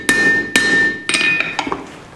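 A hammer strikes hot iron on an anvil while forging the corners of a bottle opener, with sharp ringing blows in an uneven rhythm, two slower hits followed by a quicker cluster of lighter taps, loud and close.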